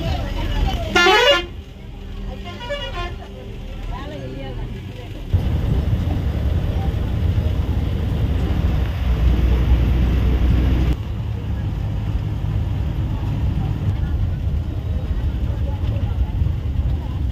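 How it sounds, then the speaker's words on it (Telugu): A BST bus on the Peruru–Pavagada route drives along with a steady, loud engine and road rumble. A horn blares sharply near the start, and the drone changes character partway through as the vehicle moves on. "బస్సు ఇప్పుడు ఎగుపల్లికి అయితే వచ్చింది"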